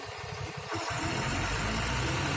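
A Tata truck's diesel engine idles after starting, a low rumbling chug close by that steps up and grows louder and steadier partway through.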